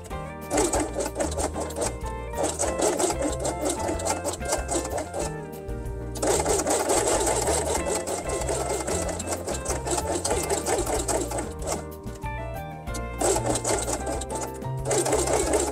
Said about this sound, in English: Then place green element on top and sew along the edge.